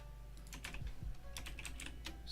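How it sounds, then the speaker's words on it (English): Soft, rapid clicking of a computer keyboard being typed on at a desk, faint irregular keystrokes over a low background hum with no talk. "If you guys hear any typing, I'll try to actually say what I'm typing at the same time too"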